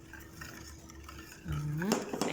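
A utensil stirs liquid hamburger ingredients with egg white in a bowl, giving soft scraping swirls that turn into a louder clattering of the spoon against the bowl toward the end.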